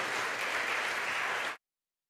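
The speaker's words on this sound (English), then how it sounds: "So let's give the student a round of applause." An audience at a student recognition ceremony for biliteracy seals claps in a dense, even burst of applause that cuts off abruptly after about a second and a half.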